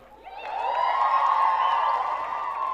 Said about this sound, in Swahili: Haya, makofi na kelele sasa.